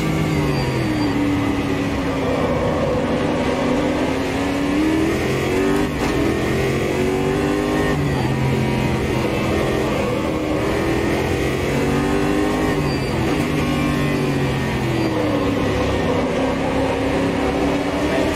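A race car engine screams down the main straight at Estoril in the Automobilista 2 racing sim, a loud continuous high-revving drone that rises and dips through gear changes with no voices.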